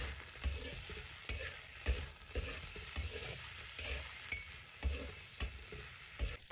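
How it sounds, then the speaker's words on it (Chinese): Potato slices and scallions are stir-fried in a pan with a metal spatula, producing repeated scraping strokes over a constant sizzle, close and alone. "再把葱段放进来，继续用铲子翻炒均匀"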